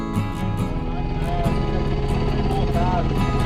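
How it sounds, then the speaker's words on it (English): A motorbike on a sandy desert track in the Simpson Desert, its steady engine drone sounding loud and continuous throughout, mixed with nearby vehicle rumble and people talking over it. "Motorbike coming."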